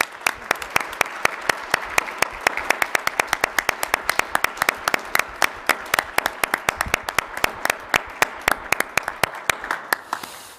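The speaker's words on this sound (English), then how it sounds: "I hope that you will reserve an extra round of applause for the organizer of this forum, Mr. Timothy Wilson, the head of Outlaw." Audience applause at a forum on LGBT equality and religious liberty, dense sustained clapping from a sizable crowd lasting about ten seconds, loud and steady before tapering off at the end.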